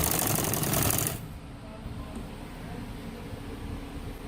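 A sewing machine stitches a gents' kameez cuff in a fast, even mechanical whir that runs loud for about a second, then stops, leaving a low, rough background hum.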